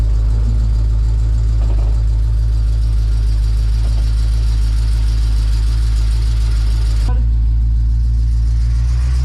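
A Pontiac Firebird's engine, long dormant for over thirty years, runs with a heavy, loud low rumble recorded up close, its steady idle shifting slightly near the end.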